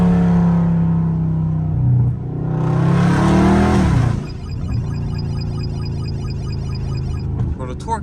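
A catless Dodge Scat Pack revs loudly, then drops into a sport downshift and pulls hard in traffic. The engine roars up close, and a voice talks over it.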